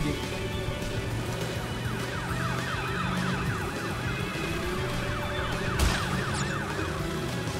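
A police car siren in the video game Crash Bandicoot: Warped wails, cycling up and down in the distance over a low engine rumble, steady and moderately quiet, with a brief bump near the end.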